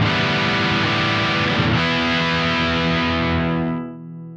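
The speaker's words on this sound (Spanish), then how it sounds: "ahora vamos a empezar a jugar con el control primero de distorsión para que escuches el rango" An electric guitar played through a JHS AT+ distortion pedal rings out in one loud, sustained, heavily driven chord. The tone shifts partway through, then the chord decays and cuts off.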